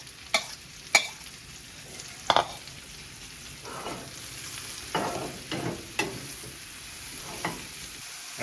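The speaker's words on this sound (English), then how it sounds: "once that starts to shimmer a little bit, we're gonna drop our mushrooms in" Mushrooms fry in already hot oil in a pan, a soft continuous sizzle broken by several sharp clinks and scraping stirs, close and fairly quiet.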